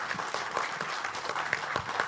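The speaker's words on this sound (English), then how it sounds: "round of applause." An audience claps steadily for a coder at an event, a dense, even patter of many hands sustained throughout, moderately loud and without voices.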